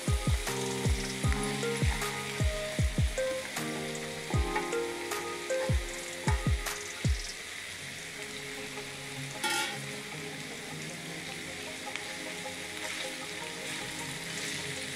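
Okra frying in a pan with ginger-garlic, crackling sizzle and sharp pops during the first seconds, then a steadier quieter hiss, close up with no talking.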